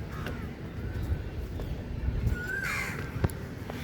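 A bird calling along the Malabar Hill forest trail in Mumbai, a couple of clear rising calls over steady outdoor background noise with scattered faint knocks.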